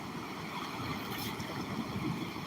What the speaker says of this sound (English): It looks like this is a high tide coming in.